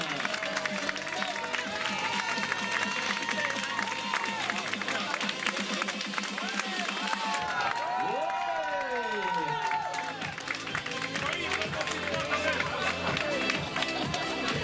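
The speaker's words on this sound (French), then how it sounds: "Mesdames, messieurs, un tonnerre d'applaudissements pour les Master 7." A crowd at a prize-giving for a 5 km road race applauds and cheers for the award winners, steady and full throughout, while an announcer talks over it and music swells midway.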